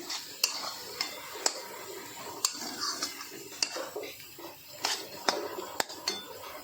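Boiled crushed green peas being roasted and stirred in a pan for kachori filling, with a faint sizzle under repeated scraping strokes and sharp clinks of a spoon against the pan, close and steady with no talk.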